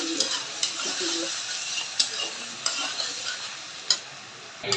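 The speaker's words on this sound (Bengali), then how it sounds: "এগুলো আমি একটু রসুন আর একটু লবণ দিয়ে ভেজে নেব।" Dried fish fry with garlic and salt in a pan, a steady hiss of sizzling broken by repeated sharp scrapes and clinks of a spatula stirring against the metal.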